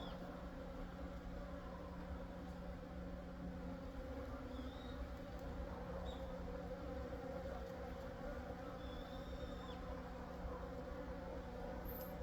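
Native Korean honey bees hum around a square wooden hive wrapped for winter in snowy weather, near a hornet guard screen. The buzzing is a faint, steady drone, with no voices.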